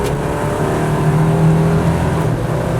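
A 1968 Chevy Nova SS on a South Georgia back road accelerates with a loud, steady engine drone that rises slightly in pitch and stays close and continuous throughout.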